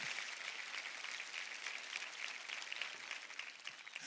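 A church congregation applauds during a sermon, producing a steady, faint wash of many hands clapping together that carries on without pause and with no voice over it.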